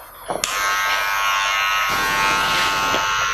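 T-liner hair trimmer buzzing steadily at close range while cutting a neckline taper during a skin-taper fauxhawk haircut, a continuous electric hum with a couple of brief clicks at the start.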